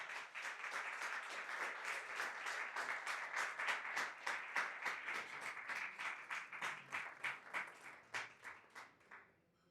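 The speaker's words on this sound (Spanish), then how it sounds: "que por favor le den un muy fuerte aplauso al doctor Luis Uscanga." Audience applause at a medical talk on celiac disease, a fairly faint crowd clapping in a dense, steady patter that breaks into fewer separate claps and fades out at the end.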